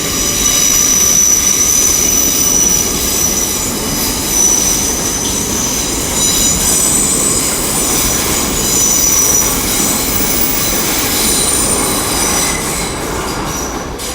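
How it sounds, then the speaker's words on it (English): Great Western Railway class 800 IET unit 800316 departs London Paddington on a Swansea service, its loud steady rumble and wheel noise sustained throughout with faint high squeals above. "we've got 2 trains going out, 800 316, working a Great Western Railway service to Swansea"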